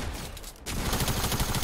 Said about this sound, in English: we're getting shot from deep